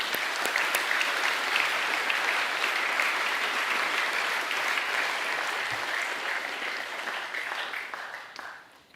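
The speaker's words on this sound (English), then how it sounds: "can we please give them a round of applause" Sustained applause from a large audience at a school co-curricular awards ceremony, steady and dense for about eight seconds before tapering off at the end.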